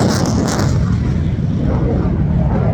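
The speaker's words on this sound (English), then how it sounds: "who wants to see the F-35 again?" An F-35 fighter jet roars past at the RAF Fairford air show, a loud, continuous broadband jet rumble filling the whole clip, close and powerful.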